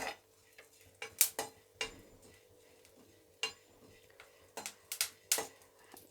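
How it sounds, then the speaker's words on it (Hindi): Melon seeds dry-roasting in a pan for panjiri give off sparse, irregular sharp clicks and light scraping taps against the metal, close by, with quiet gaps between them and no steady sizzle or voices. "ये खरबूजे के बीज मैंने डाल दिए हैं, इनको भून लेते हैं।"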